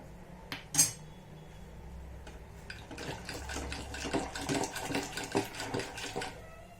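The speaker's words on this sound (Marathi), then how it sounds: "आता छान घोटून घेऊया आपण" Rhythmic wet squelching and scraping as cooked dal with vegetables is mashed in a pot, close and moderately loud, building into quick repeated strokes.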